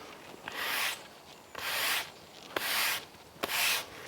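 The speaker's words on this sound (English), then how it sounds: "That way the bristles on the brush don't push any of the sand out from between the cracks" A brush sweeps sand into the joints of block paving in four rhythmic strokes, each a gritty, scratchy rasp lasting about half a second with short pauses between, close and faint.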